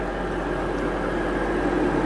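BMW engine running with the air conditioning on high, a steady, close mechanical hum and drone with no breaks or other sounds.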